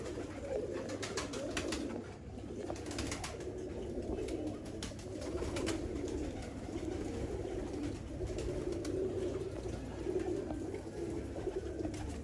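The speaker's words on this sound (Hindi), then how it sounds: "ये 11 ब्लड के कबूतर हैं" Pigeons of an eleven-bloodline mixed breed coo in soft, repeated low calls. The calls sit over a busy, noisy background with scattered chirps and faint clicks.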